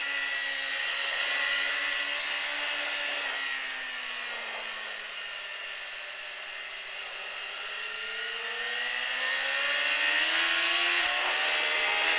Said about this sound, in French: pense à relever ta moto et accélérer fort